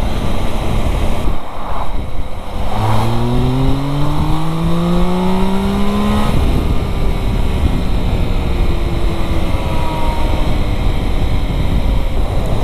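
A Triumph Tiger Sport 1050 motorcycle engine rumbles steadily, revving up with rising harmonic tones that climb and then drop back, over constant wind and road noise.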